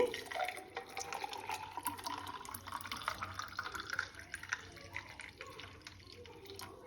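Thin, watery sesame juice poured into a glass, giving a soft, continuous trickling and splashing liquid sound that is fairly faint and steady throughout.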